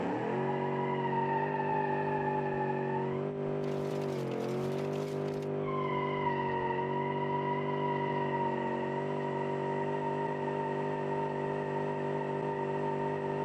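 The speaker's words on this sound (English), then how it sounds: "this thing never stops smoking the tires" A car doing a sustained burnout, its tires smoking and skidding, gives a loud, steady tire squeal over a droning engine note that holds almost unbroken, with a brief rougher burst of noise partway through.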